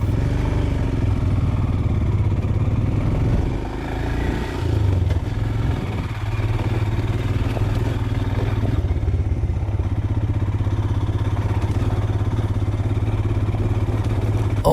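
A Yamaha R15 V3 sport motorcycle rides over rough off-road ground, its mid-pitched engine droning continuously and close by, with rattles and clatter from the bumpy terrain, easing slightly around the middle before carrying on steadily.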